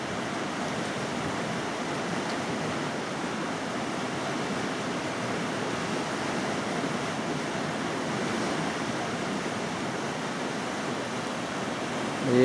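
The Vitim river flows beneath a bridge on the BAM road, a continuous, even rushing of water mixed with some wind noise, steady and moderately faint throughout with no voices.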